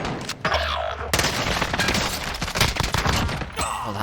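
Rapid hipfire bursts from an Oden rifle in Call of Duty: Warzone, loud cracking shots in quick succession after a brief pause, with heavy low booms layered underneath and no talking.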